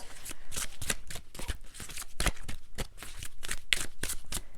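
A deck of tarot cards is shuffled by hand in a fast, riffling run of crisp bursts, close and fairly loud, with no speech over it.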